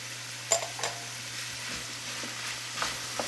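Cherry tomatoes sizzle quietly in a hot pan, a soft steady frying hiss broken by a few sharp clinks and stirring knocks.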